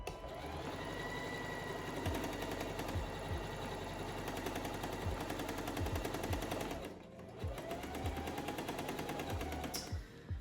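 A sewing machine runs a straight stitch along an existing seam of a thrifted garment, a dense, steady rapid mechanical chatter close up with brief slowdowns and restarts, no talking.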